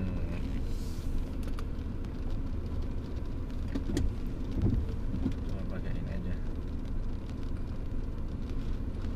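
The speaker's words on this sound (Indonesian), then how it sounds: "Wah sayang cuacanya hujan guys" Steady rain patters throughout, a dense wash of noise with road traffic rumbling low underneath, heard from a gazebo; a few faint voices come through now and then.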